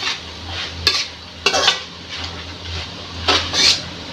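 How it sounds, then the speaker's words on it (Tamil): Snake gourd poriyal with curry leaves is stirred in a pan, a gentle sizzle broken by several clear scraping and clacking strokes of a spoon against the pan, close up, with no talking. "இப்போ நல்லா மிக்ஸ் பண்ணி விடுங்க"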